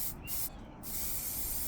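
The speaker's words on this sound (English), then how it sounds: "just start getting these first coats of black" An aerosol spray can lays first coats of black paint onto model truck parts in a shed, giving close, steady hissing bursts with two brief pauses.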